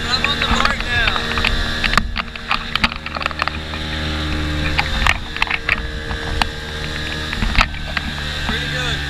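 A droning boat motor on a fishing trip hums beneath gusty wind buffeting the microphone, with sharp knocks and a voice speaking faintly over the noise.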